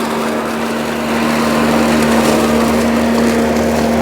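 A DeWalt DCMWSP156 cordless self-propelled 2x18V lawn mower trims grass where asphalt meets lawn, giving a steady, loud electric motor hum with a constant whine and broadband blade rush throughout, no talk.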